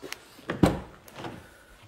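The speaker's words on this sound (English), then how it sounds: "Seems like the door shuts" A car door shuts with a single dull thud, preceded by a few softer clunks and rustles, close by and moderately loud with no talking, on a car whose paint has just been redone.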